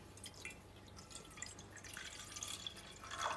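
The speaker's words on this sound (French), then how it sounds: "Et vous mettez au départ un petit peu d'eau." A little water poured into a pan over a low flame on the stove, soft trickling and dripping, faint and close, with no talk.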